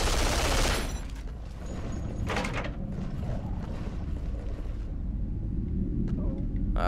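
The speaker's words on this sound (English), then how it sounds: "Is that a sniper? Yeah, I used a railgun." Railgun shots from the video game Duke Nukem Forever, heard as loud bursts of gunfire and mechanical clatter over a constant rumbling backdrop, with a sharp blast at the start and more bursts later.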